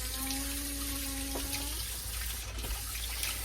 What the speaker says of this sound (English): I need to wash my hands really fast